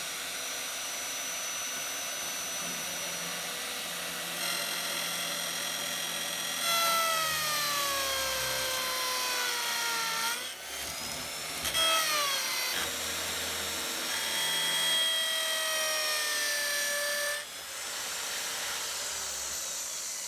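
A power drill with a boring bit cuts a hinge hole into wood, a close whining grind that rises and falls in pitch across several bursts as the bit bites and eases.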